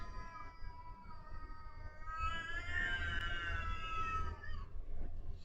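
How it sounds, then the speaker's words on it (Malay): Several house cats meow at home in a long, drawn-out, wavering cry that rises in the middle and fades, with no talk over it. "rumah Hana banyak kucing"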